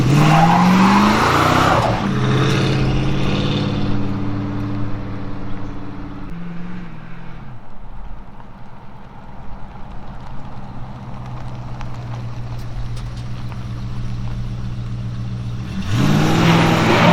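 A well-kept, one-owner 1978 Dodge Magnum drives along, its engine holding a steady, droning hum. The sound swells louder at the start and again near the end, with no voices.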